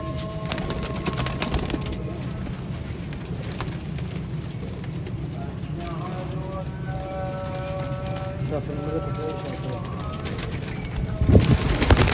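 Domestic Jonsirre Teddy pigeons, an old pure fancy breed, coo steadily close by in a loft, with low, rolling calls and rustling; a few harmonic coos stand out midway, and faint voices murmur in the background.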